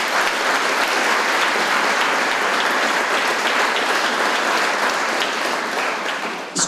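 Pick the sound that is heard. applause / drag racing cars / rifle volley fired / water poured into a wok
applause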